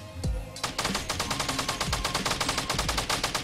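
A purple SCAR assault rifle in Fortnite fires a rapid, even burst of loud close shots after a single opening crack, the automatic fire running steadily to the end.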